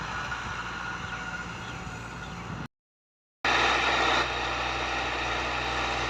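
A tractor with a 375 Stanadyne pump pulls a 26-inch disc harrow with 18 discs, its engine a steady loud drone with a brief cut to silence midway, then resuming louder and rougher.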